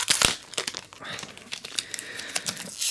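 Plastic packaging is crinkled and torn off a smart plug, a close, busy stream of rustling and crackling with brief louder crunches throughout.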